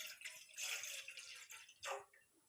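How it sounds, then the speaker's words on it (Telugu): Water is poured into a glass at home, faint splashing bursts with quiet gaps and a short final trickle, close and soft with no voices. "ఒక గ్లాస్ వాటర్ పోయాలి."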